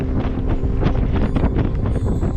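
Strong wind roars steadily across the microphone on the exposed summit of Helvellyn, a dense, continuous buffeting rush in harsh hiking conditions with no pauses.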